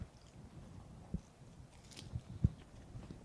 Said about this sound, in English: The tempura shrimp obviously would have been way crunchier if I didn't let it sit for a half an hour.